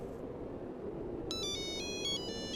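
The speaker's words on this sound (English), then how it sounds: "the phone began to ring. Quietly at first, then louder and louder" A phone rings outdoors after being thrown into the woods, its electronic tones starting partway through and repeating in bursts over a steady low background rumble, fairly faint and distant.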